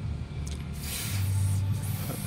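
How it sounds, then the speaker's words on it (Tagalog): WD-40 lubricant sprays from a can onto a rusty, stuck screw thread, giving a steady hissing burst of close aerosol spray lasting about two seconds, with no speech. "Puro kalawang. Kaya spray natin W40."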